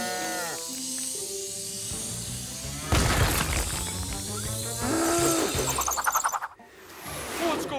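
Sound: cows mooing

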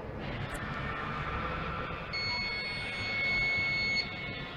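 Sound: alarm buzzer

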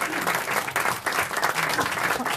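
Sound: woman in the audience applauding

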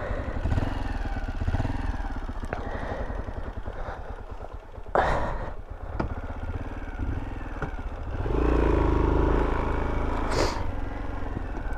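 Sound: motorcycle engine running off-road

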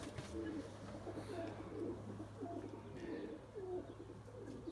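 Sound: pigeons cooing

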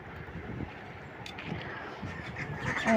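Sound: ducks quacking at feeding

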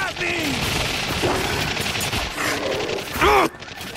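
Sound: gunfire in the video game The Darkness 2

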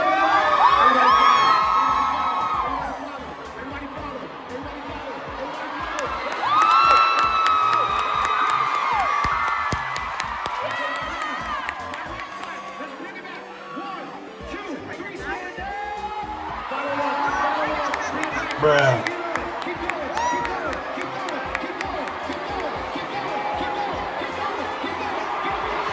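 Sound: concert crowd doing a wave and cheering

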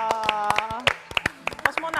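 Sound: studio audience clapping

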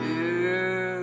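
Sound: voice imitating a cow mooing

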